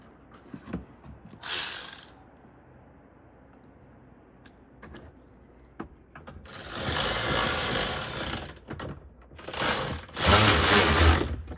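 Taillight adjusters on a Volkswagen MK5 R32 are tightened with a ratcheting power tool, in short whirring bursts separated by clicks and handling noises, close up.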